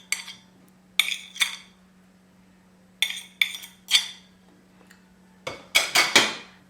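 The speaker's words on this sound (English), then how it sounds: "I'm just going to mix this, and I'm using a fork to help break down the butter" A fork works cold butter and brown sugar together in a bowl for a berry crumble, making sharp clinks and scrapes in short bursts separated by near silence under a low steady hum, with no voices.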